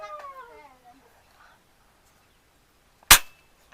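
A single sharp crack from a toy gun rings out once, loud and close, after a brief moment of voices.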